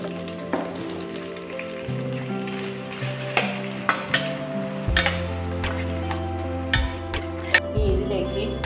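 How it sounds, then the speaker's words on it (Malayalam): Chopped tomatoes with salt sautéing in a pan for tomato chutney, a steady close sizzle broken by scraping stirs and sharp clinks of a utensil against the pan, with no talking. "ഇനി അടുത്തത് തക്കാളി ഇട്ട് വഴറ്റുക."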